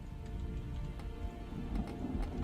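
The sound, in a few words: rain falling in the video game Terraria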